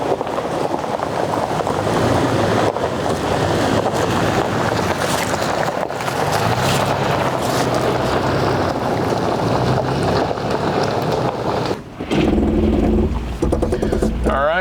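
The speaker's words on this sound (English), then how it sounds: "We are still using crawl control down these rocks." A 2024 Toyota 4Runner TRD Off-Road on stock suspension crawls down a rocky trail under crawl control, its engine and tyre noise heard as a constant rumble heavily buffeted by wind on the microphone, with a brief louder clatter near the end.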